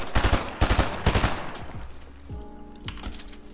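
Close, loud bursts of automatic gunfire in Fortnite, three rapid strings of shots in quick succession, then fading into game ambience with lighter clicks.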